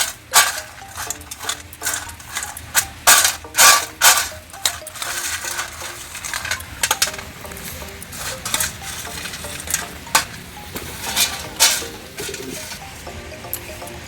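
Drumstick stalks being fried in a pan for dried fish curry, a steady sizzle under repeated sharp scraping and clinking of a utensil against the pan, close and fairly loud.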